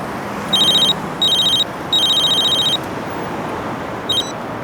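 Telephone rings loudly in repeated electronic bursts, three long trilling rings with short gaps and a brief final chirp, clear and close over a quiet room.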